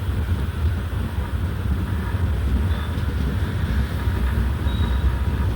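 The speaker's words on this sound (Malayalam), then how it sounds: "അങ്ങനെ അവിടെ നിന്നും ട്രെയിൻ എടുത്തു" Pune–Kanniyakumari Express pulling away from a station in Kerala, a continuous steady rumble of wheels and carriages heard from on board, with faint brief squeals and no voices.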